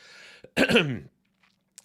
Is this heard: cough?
yes